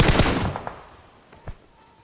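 A close burst of rapid automatic gunfire rattles in PUBG Mobile, then fades, followed by a single sharper shot a moment later.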